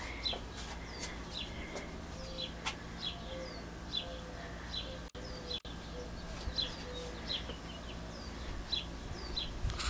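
A small bird near its nest in dry Arizona gives repeated short chirping calls at a steady pace, moderately close over a constant low background hum.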